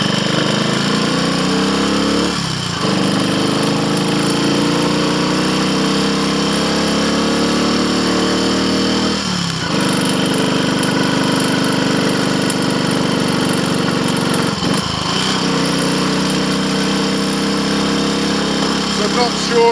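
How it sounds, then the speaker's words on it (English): A Triumph Tiger Cub motorcycle engine runs loud and steady on a road test, a continuous buzzing drone with a brief dip roughly every six seconds. It is suffering from pinking. "I'm hearing pinking noises. I'll be gentle with the throttle and everything up here."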